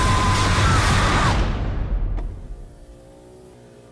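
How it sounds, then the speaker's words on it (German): A car in an animated film trailer drives and accelerates with a loud engine roar, then fades sharply to quiet after about two seconds, leaving a soft tonal tail. "Sieh nur, da ist unser Auto."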